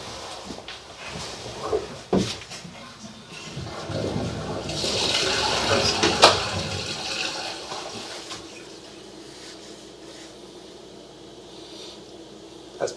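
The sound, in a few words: toilet being flushed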